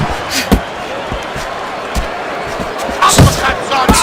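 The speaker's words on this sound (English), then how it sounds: "Uppercuts on the inside." Uppercut punches landing in a video game boxing match: a series of sharp, heavy thuds at irregular intervals, with a quick cluster near the end, over a steady crowd murmur.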